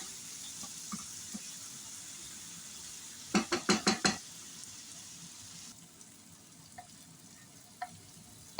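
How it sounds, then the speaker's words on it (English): Tomatoes stirred in a cooking pot over a low sizzle, with a quick burst of five sharp metallic scrapes or knocks midway, then quieter frying with scattered small clicks. "I'll add my tomatoes there. I'll stir it until ready."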